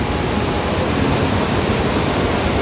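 Floodwater of the Sardu river rushing in a steady, loud broadband roar with no pauses, heard close during rain.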